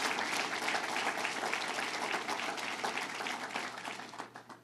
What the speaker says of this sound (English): let's give a big round of applause to Tun Jeswaldi and to the Teamsters